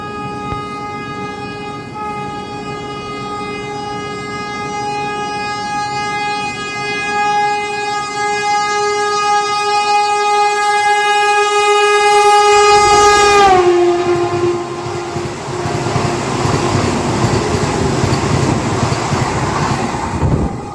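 Vande Bharat Express from Anand Vihar Terminal to Dehradun, with a long, loud multi-tone horn that cuts off abruptly, followed by the roar and rattle of the train rushing past a stopped train at a station.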